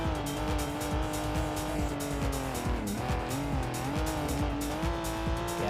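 A 1990s Porsche 911 Turbo S in the BeamNG driving game hums steadily at speed while its tires squeal and scrub through a turn, with the engine note rising and dipping under a continuous loud roar.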